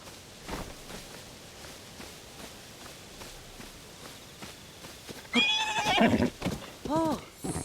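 A horse in the Tears of the Kingdom video game gives soft hoof steps, then two loud, clear whinnies that rise and fall near the end.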